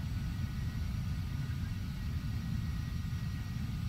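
A Carenado EMB 505 Phenom 300 jet taxis in the FSX flight simulator, giving a steady, faint, low engine rumble with a soft hiss and no breaks.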